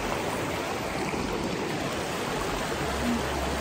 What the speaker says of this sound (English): This is where two streams come together.